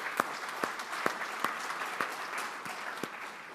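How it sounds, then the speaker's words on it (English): Audience applause at a Rotary club meeting for a sponsor from a corporate realty firm, steady clapping throughout with individual sharp claps standing out at a regular pace, moderately loud and alone. "Let's give him a big round of applause and his company."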